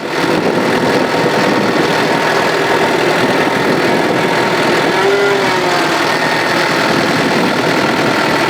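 New Holland tractor with a two-speed, driving down a driveway after an electrical repair: a steady, close engine drone with a mechanical hum and rattle, running continuously without pauses.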